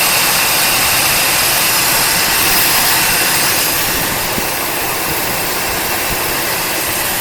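The engine of a 1972 Camaro barn find, sitting unused for 19 years and with leaking valve covers, runs in a loud, continuous, steady roar close by. It holds the same level throughout, with no talk over it.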